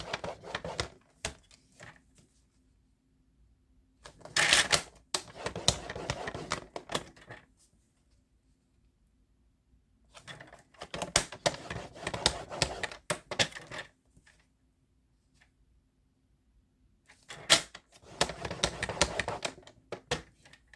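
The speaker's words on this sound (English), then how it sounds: "So I'm going to kind of press kind of hard on there without cutting through my paper." A hand tool is pressed hard along scored lines on card paper, producing bursts of quick scratchy tapping and scraping that come in three separate runs, with silent gaps between them.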